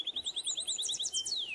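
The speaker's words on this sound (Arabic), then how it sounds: "ونقارة التينيسي" Tennessee warbler singing, a quick run of high, sharp repeated chips that accelerates into a faster trill and ends in a descending slur, faint and alone.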